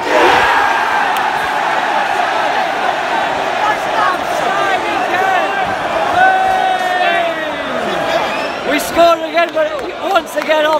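Reading football fans in a stadium crowd chant and cheer loudly and steadily, with whoops and shouts rising near the end as the noise grows more ragged.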